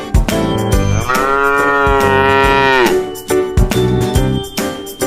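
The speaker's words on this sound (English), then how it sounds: "It's a cow." A cow on a farm gives one long, drawn-out moo lasting about two seconds, set in a children's farm animal learning piece over bright, bouncy background music with a steady beat.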